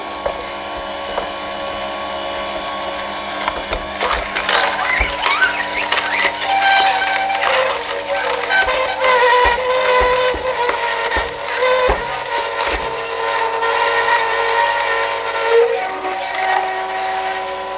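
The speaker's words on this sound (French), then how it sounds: "comme tu peux l'entendre, la machine quand même, elle travaille et ça force un petit peu" A Sunmaki juice extractor strains as it crushes fruit pieces, a steady motor hum broken by irregular cracks, creaks and squealing grinds over about eighteen seconds.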